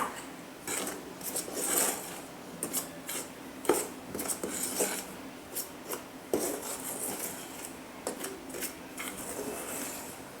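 Whole wheat flour and salt are mixed quickly in a bowl for babka dough. The faint sound is close and dry, with scraping and rustling strokes and a few light clinks of a utensil against the bowl.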